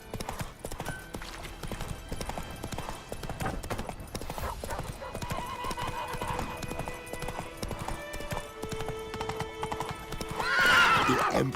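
Roach, a horse in the video game The Witcher 3: Wild Hunt, gallops with steady, rapid clip-clop hoofbeats under game music, and a whinny rises near the end.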